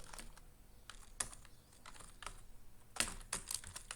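Text is typed on a computer keyboard into an Excel spreadsheet, producing soft, close clicks in small uneven bursts with short pauses, quiet and with no speech.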